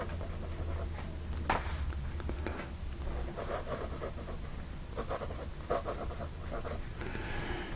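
A Lingmo Blue Demonstrator fountain pen with a fine-type nib scratches across paper in soft, intermittent strokes, faint and close, with small pauses between bursts of writing.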